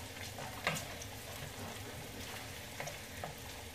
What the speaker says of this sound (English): Bacon is browning nicely.